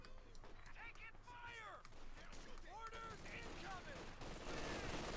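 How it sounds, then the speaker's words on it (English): Machine gun and battle fire from the Company of Heroes 2 strategy game rattles steadily in the background while someone talks over it throughout. "We got the heavy machine gun backing up there"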